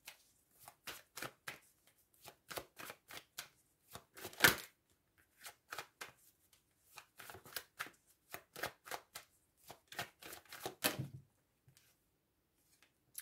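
Tarot cards shuffled by hand in a steady run of crisp riffling bursts and soft slaps, close and fairly quiet, with no talk over it and a brief pause near the end.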